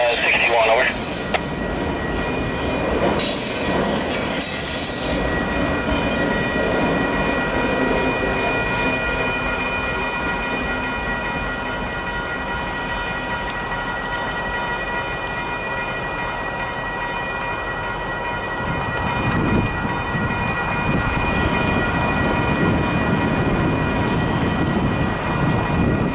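A westbound freight train on the Glidden Subdivision rumbles past with sustained wheel squeal and a horn near the start, while radio chatter and voices come through in the background.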